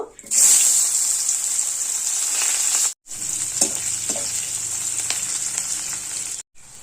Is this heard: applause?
no